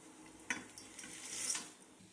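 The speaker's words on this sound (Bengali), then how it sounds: "এখন কেটে নেওয়া চাউমিনটা দিয়ে দেবো।" Chow mein noodles go into a pot of boiling water with a little refined oil, giving a soft clatter and stir followed by a rising hiss and bubbling that swells and then fades.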